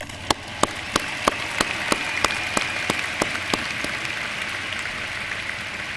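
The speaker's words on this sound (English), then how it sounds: "Let's give them another round of applause" Audience applause at a university commencement ceremony, a steady wash of clapping with distinct sharp claps popping out at regular intervals, moderately loud and unbroken by talk.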